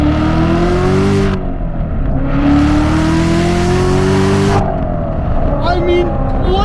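A 650HP 2017 Corvette Z06 engine revs loudly, climbing through a gear before a downshift and a fresh rising pull, heard close from inside the car.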